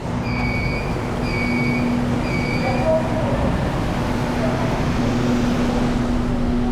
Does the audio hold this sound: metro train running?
yes